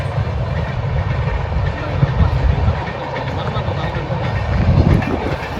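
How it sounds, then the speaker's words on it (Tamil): A train rolls past on a village railway line near farmland, a steady loud rumble with rhythmic clatter of wheels over the track, continuous and close throughout. "ஒரு ட்ரெயின் வந்து போயிட்டு இருந்தது"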